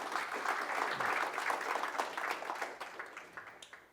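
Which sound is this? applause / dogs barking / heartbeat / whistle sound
applause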